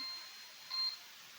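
Quiz timer during a Bible quiz giving one short, faint electronic beep partway through, over quiet room hiss.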